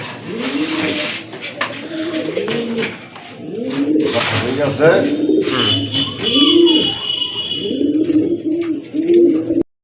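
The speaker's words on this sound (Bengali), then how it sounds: "দেখেন আরেক জোড়া কবুতর, চিলা কবুতর, বাঘা চিলা কবুতর।" A pair of Bagha Chila pigeons coo in repeated rhythmic rolling phrases close by, with a brief spoken remark and faint traffic in the background.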